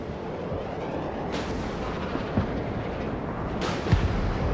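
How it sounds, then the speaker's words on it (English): Artillery battery fire in the video game Broken Arrow, a dense rumbling roar of gunfire with two louder booming reports and some distant thuds, no one speaking. "Battery deployment here. Engaging targets with direct fire."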